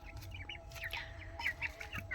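Chickens cluck and chirp softly nearby, several short calls overlapping against a low steady background hum.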